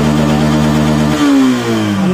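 A Yamaha FZ-S V2 motorcycle engine, its throttle body just cleaned, holds a loud steady rev at full throttle, then the pitch drops and rises again as the throttle is eased and reopened; no speech.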